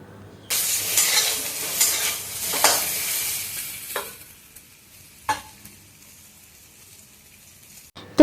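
Vegetables for sukto fry in a pan while being stirred, bursts of bright crackling sizzle and scraping that fade into quieter sizzling with a few sharp clatters.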